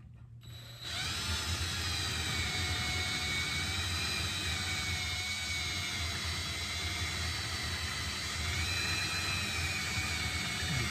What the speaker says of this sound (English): I'm going to drill right into the wall of the kiln